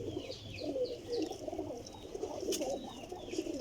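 A pigeon caught overnight coos in a low, repeated rumble over steady background noise, with faint higher chirps scattered above.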